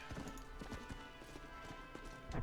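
Horse hooves clip-clop in the Red Dead Redemption video game: a steady, quick rhythmic trot, fairly quiet and brief, with no talking.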